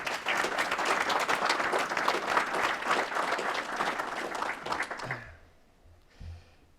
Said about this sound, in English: I want to give every volunteer in this room a round of applause